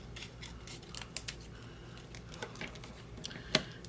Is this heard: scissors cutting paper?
yes